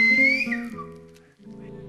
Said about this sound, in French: un message sifflé peut être entendu à une distance qui peut aller jusqu'à 3500 mètres